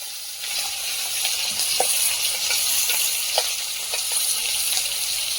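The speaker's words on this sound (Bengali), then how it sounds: "কড়াইতে মাছটা দিয়ে দেবো।" Large local koi fish sizzle in hot oil in a wok, a bright, steady hiss close by with scattered pops and spatters throughout.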